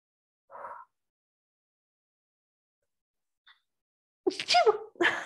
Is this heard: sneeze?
yes